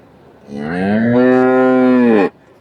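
A pregnant cow at the Erode cattle market gives one long, loud, sustained moo lasting nearly two seconds, clear and close with no voices over it.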